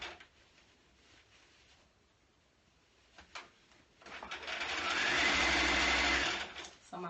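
A sewing machine stitches a lining to a coat, right sides together; quiet handling first, then the machine runs steadily up close for a few seconds before slowing to a stop.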